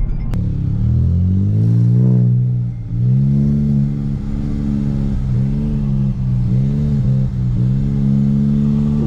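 Hyundai HB20 TGDI turbo car, tuned stage 3, accelerating hard in manual mode from first gear, a loud close engine roar climbing in pitch with quick dips at each gear change.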